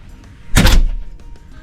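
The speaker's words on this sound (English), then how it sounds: "Big peephole with a sliding door" A sliding cover on a large peephole in a cruise ship balcony cabin door, heard as one quick scraping slide and thunk that rises and fades over about a quarter second.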